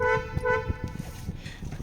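A Kia Seltos car horn, a dual shell type, toots in several short bursts with steady tonal bands, loud and near, with some low background rumble.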